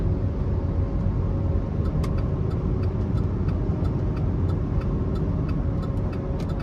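2012 Buick Enclave with a V6 engine driving on the road, a steady cabin rumble of engine and road noise with faint light ticking throughout and no talk.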